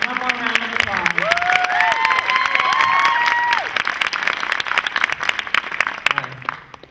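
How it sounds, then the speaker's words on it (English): An audience at a Q&A screening in a theater claps and cheers in a burst that swells and then fades, with raised voices calling out over the applause. "Let's give you one more round of applause."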